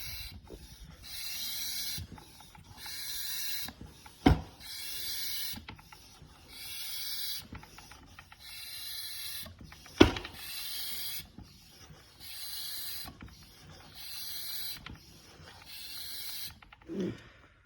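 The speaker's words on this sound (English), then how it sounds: "we're just going to go ahead and give this about 10 pumps, and we can start to see the oil start to get extracted" Manual oil extractor pumped by hand, a rhythmic series of about ten squeaky mechanical strokes with sharp clicks and knocks between them, close and moderately quiet with no talk.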